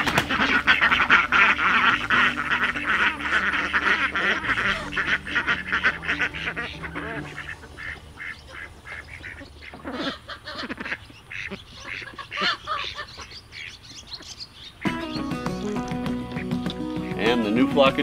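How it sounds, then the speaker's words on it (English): Ducks quack loudly and repeatedly as they are let out of a pen in an old barn, with a busy, continuous chorus of calls up close and a person talking over them. "All right, let's let the ducks out."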